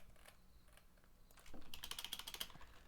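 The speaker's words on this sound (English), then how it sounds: "let's just type it by hand" Code is typed by hand on a computer keyboard: after a quiet start comes a quick, close run of soft key clicks, faint overall and without voices.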